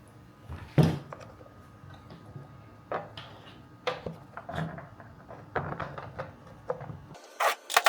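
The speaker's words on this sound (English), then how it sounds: "we can grab our 17mm wrench. We can grab the hex standoff from the back and tighten it up" A 17mm wrench tightens a hex standoff while assembling the belt and pulley on a reelCNC Gen 3 conversion kit, giving a string of close, irregular clicks, knocks and scraping rasps of metal and tool handling.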